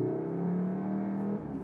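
A Cupra car engine revs under acceleration with a steady, fairly loud drone and a rising harmonic hum, easing off near the end; no voices.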